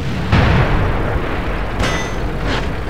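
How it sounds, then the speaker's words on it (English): Three loud metallic clanging impacts ring out in a tank video game, each followed by a rumbling blast, over a constant noisy background with no talking. "Explosions happening everywhere."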